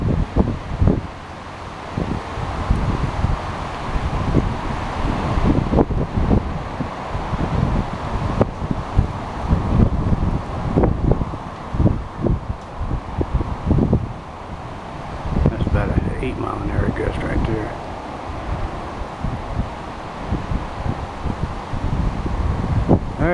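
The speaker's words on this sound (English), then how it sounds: "You should be able to pick up the wind coming," Wind at around 17 mph blows past a vertical axis wind generator, a steady, close, rumbling buffet on the microphone that rises and falls for over twenty seconds.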